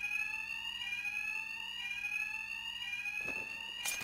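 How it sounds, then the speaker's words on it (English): A steady electronic alarm rings in Batman: Arkham Knight, loud and continuous with sustained high tones throughout, then a short burst of clattering near the end. "Two-Face's thugs won't hear me over the alarm"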